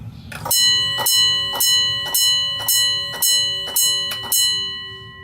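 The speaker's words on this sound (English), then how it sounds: "here's our bell sound" A locomotive bell rings in a steady, regular rhythm, about eight clear metallic strikes, each ringing briefly before the next.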